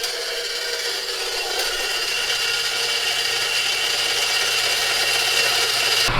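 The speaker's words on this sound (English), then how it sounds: "right now I'm using the bandsaw to cut the pipe" A bandsaw cuts through an exhaust pipe in a garage, a continuous harsh rasping, grinding hiss that stays loud and close and holds steady for several seconds.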